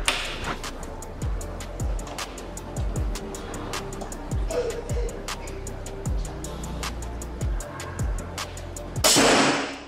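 A PCP air rifle fired at battery targets, heard as a steady series of sharp snapping shots and impacts roughly every half second, closely spaced and fairly loud, ending in a brief burst of broadband noise.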